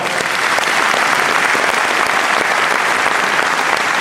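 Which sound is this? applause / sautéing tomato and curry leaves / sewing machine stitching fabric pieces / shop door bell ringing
applause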